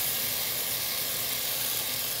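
Seafood hits a hot pan for a Vietnamese spicy seafood udon soup, giving a steady, close, loud sizzle and hiss that runs unbroken for about two seconds.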